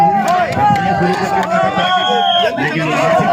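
Crowd of protesters at a police riot-control drill at the Agra police lines, a loud, continuous hubbub of many voices and shouts close by, with running footsteps and a whistle-like tone cutting through midway.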